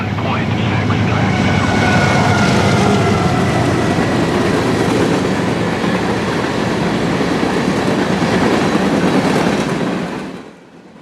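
Norfolk Southern freight train 61F speeding past at trackside near milepost 101.6, a loud roaring rumble of wheels and cars with rushing wind noise, holding steady before fading quickly at the end.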